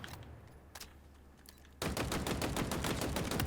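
Rapid automatic gunfire from a new weapon in the video game Halo Infinite, a few isolated shots followed by a loud sustained burst of fast, evenly spaced rounds.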